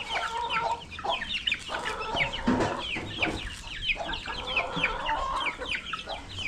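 Chickens cluck and squawk continuously at close range on a farm, with overlapping calls from several birds and a rooster mixed in, at a steady moderate level without speech.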